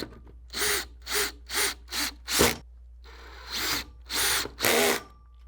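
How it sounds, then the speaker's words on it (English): A power drill revs in short bursts, about eight spurts with brief pauses, driving self-drilling screws into aluminum railing brackets up close and loud. "fasten the brackets to the rails using 2 more self-drilling screws"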